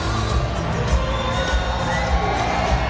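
A large crowd at a Trump NRA rally in Harrisburg, Pennsylvania, cheering and shouting continuously, a dense wall of voices with whoops rising from the roar.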